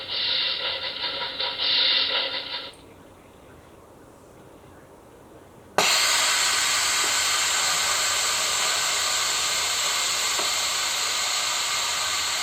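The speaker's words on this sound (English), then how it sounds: "Steam release will begin." Cuckoo 8-in-1 multi pressure cooker venting steam: a loud, steady hiss begins abruptly and holds to the end, after an earlier hissing burst and a quieter pause.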